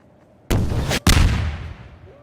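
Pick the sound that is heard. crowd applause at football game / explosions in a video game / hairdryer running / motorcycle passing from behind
explosions in a video game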